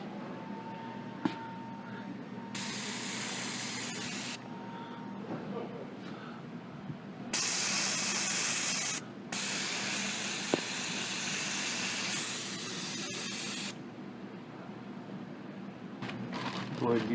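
Water sprays onto the front wheel hub of a Polaris Ranger during a wheel bearing replacement, a close hissing rush in several long bursts separated by short pauses over a steady low hum.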